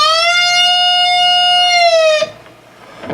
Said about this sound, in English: the B, and what you're going to do is bend it a step and a half, hold, release.